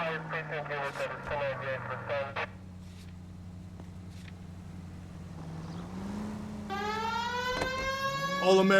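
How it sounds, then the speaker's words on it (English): A 1940s-era police car siren in the video game L.A. Noire winds up with a rising wail and sustained tone, following honk-like bursts at the start and rumbling engine noise. "We have a siren."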